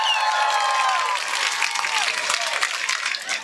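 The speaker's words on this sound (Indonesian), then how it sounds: "Tepuk tangan dulu dong buat petani." Audience applause at an Islamic religious lecture, loud at first with a few shouts and whistles, then thinning into scattered claps as it fades.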